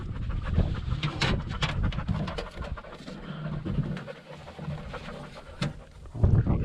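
A hunting dog pants during a first-day pheasant hunt in Kansas, its steady breathing close by and mixed with bird calls and rustling field noise throughout.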